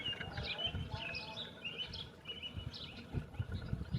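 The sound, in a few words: birds chirping during eclipse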